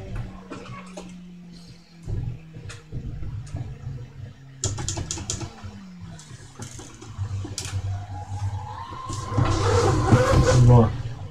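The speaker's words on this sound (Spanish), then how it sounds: "un coche que se oye muy guay" A Peugeot 206 engine in the racing game Assetto Corsa drones steadily, then revs up and climbs in pitch toward the end, running under a person's talking throughout.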